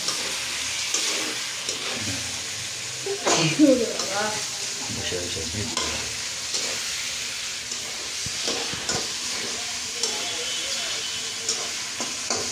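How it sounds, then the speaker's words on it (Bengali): Pigeon meat sizzles and fries with spices in a pan while it is stirred, the steady frying hiss broken by scraping stirs and a louder clatter early on, close and moderately quiet. "দেওয়ার পরে সুন্দর করে নাড়াচাড়া করে মিশিয়ে দেওয়া হচ্ছে"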